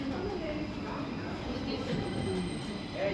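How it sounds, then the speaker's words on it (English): A Stockholm metro train pulls into the Hässelby strand terminal, giving a steady low rail rumble with faint wheel squeal, moderately close and continuous, with some background chatter. "Oh, there's another train coming in, which we can film."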